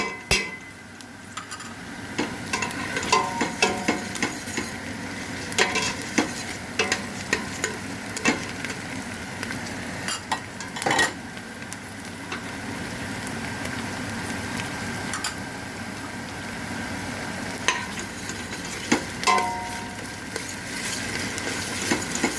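Tomato paste and onion sauté in a pan for restaurant-style dry bean stew, with a continuous sizzle under frequent spoon scrapes and small metallic clinks against the pan, close and without speech.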